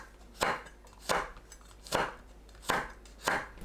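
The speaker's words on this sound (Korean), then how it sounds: "홍고추를 어슷 썰어주세요" A knife chops through red chili peppers on a cutting board, slicing them diagonally, with five crisp, evenly spaced cuts ringing out close and clear, with no voices.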